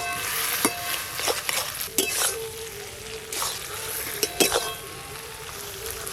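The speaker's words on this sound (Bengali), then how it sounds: "এবার ওপর দিয়ে ভেজে রাখা ইলিশ মাছের মাথাগুলো দিয়ে একটু ভালো করে মিশিয়ে নেব।" Fried hilsa fish heads get stirred into boiled taro leaves in a pan, a steady close sizzle broken by repeated scraping strokes and light clinks of a spatula against the metal.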